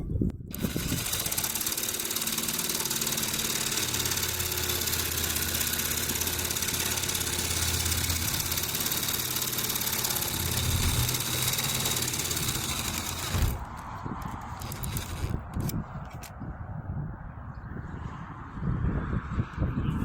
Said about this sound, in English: Got a fine tooth on here so we don't jag up the fiberglass too much.